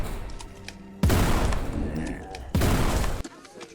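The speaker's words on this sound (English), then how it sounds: "thunderous boom when firing the double-barrel shotgun" A double-barrel shotgun fires twice in the first-person shooter Forgive Me Father, each a heavy, booming blast with a long roaring tail, over background game noise and a talking voice.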